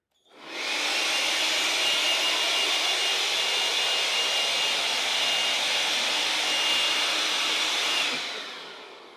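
A Ryobi 18V compact brushless handheld battery blower runs steadily at close range for about eight seconds, a loud, even broadband whoosh with a sharp start and a clean cutoff.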